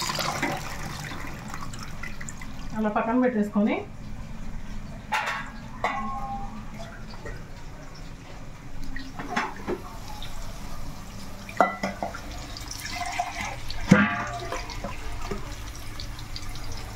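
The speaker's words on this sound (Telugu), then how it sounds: "మనకి నీళ్ళు లేకుండా మొత్తం వడగట్టుకోవాలి కాబట్టి జల్లులోనే కడుక్కుంటున్నా." Rice and lentils being rinsed with water in a strainer, giving soft, intermittent splashing and trickling close by, with a few brief spoken words.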